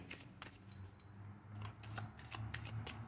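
A deck of tarot cards being shuffled by hand during a reading, quick riffling and flicking bursts repeating in an uneven rhythm, close and fairly quiet, with no speech.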